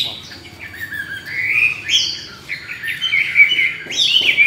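Loud, rich whistling song from a nearby hwamei, with rising and falling phrases and quick trills in an unbroken stream, and no voices over it.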